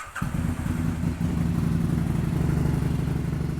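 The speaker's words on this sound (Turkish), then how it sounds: "şimdi motoru çalıştıracağız" A BRP Can-Am Spyder two-cylinder engine cranks and fires, then settles into a steady, loud idle with a throbbing low rumble, alone without talk.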